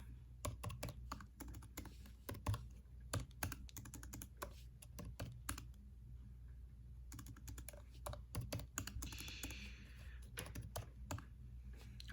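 Someone types on a computer keyboard while playing Wordle, rapid close-up clicking keystrokes in bursts with brief pauses between them.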